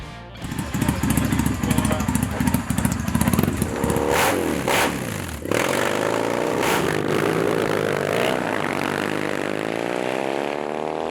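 Custom Triumph motorcycles, a Thruxton café racer among them, run and rev with a rough, loud engine note, climbing and shifting as they pull away along a canyon road.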